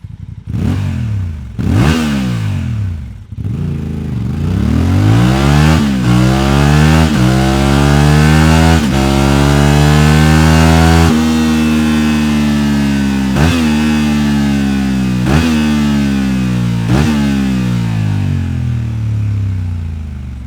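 Honda Transalp XL750 motorcycle with an Akrapovic slip-on exhaust, loud and close: a few sharp throttle blips, then a long rev held high and repeated climbs and drops in pitch, with no talk.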